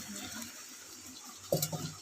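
Water poured into an egg curry cooking in a pan, a soft trickling splash that starts quietly and ends in a short, louder gush, with no talking.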